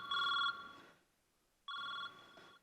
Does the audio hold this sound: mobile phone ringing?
yes